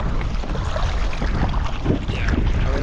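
Steady, strong wind rushes and buffets across open water on Lac de Gruyère during a packrafting trip, a continuous loud roar with choppy splashing mixed in.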